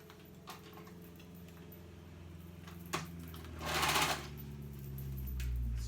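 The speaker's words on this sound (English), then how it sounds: "now I'm going to sew, stretching this band lightly." Sewing machine stitching a lightly stretched band on a child's dress, a faint steady whirring hum with a brief louder burst of stitching partway through and no voices.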